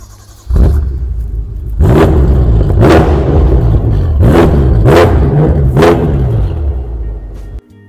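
A BMW M5 F10 with a 560-horsepower rear-wheel-drive engine revs hard through its loud exhaust, with a sharp blip followed by four or five quick rising revs over a steady deep rumble. The sound is close and very loud, with no talking.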